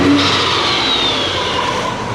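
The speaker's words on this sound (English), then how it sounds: "Revving a lot better." Subaru Forester engine, running rich after a fouled plug and being tuned for idle, revs steadily and loudly with a sustained mid-pitched drone and a slight rising whine throughout.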